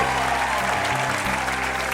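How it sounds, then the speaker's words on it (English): Wedding guests applaud the wedding party, a steady, loud wash of many hands clapping that fills the whole stretch without pause. "Let's give them all a round of applause."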